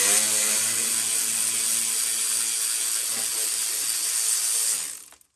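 A Snap-on 11 mm deep clamp socket on a ratchet loosens a glow plug on a 6.0 Powerstroke diesel, giving a steady, close mechanical rasp that runs for about five seconds before cutting off.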